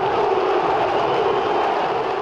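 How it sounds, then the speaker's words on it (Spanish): San Lorenzo against Independiente in an Argentine Copa Argentina match, where the hinchada del rojo give their goalkeeper an ovation after a penalty save: a dense, steady roar of a large stadium crowd, loud and unbroken. "Campaña lo tapa y se gana la ovación de la hinchada del rojo."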